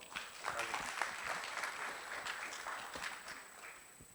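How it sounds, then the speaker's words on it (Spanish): Faint applause from an audience at a lecture on tDCS for chronic pain, a dense patter of clapping heard from a distance with a voice underneath. "Un fuerte aplauso, por favor."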